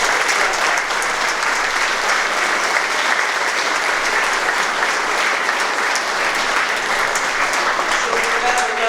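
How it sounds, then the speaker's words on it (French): A congregation in the Chapelle Notre-Dame de Grâce applauds the children at a baptism and first communion service, steady, dense clapping filling the whole stretch at even loudness. "On peut les applaudir parce que..."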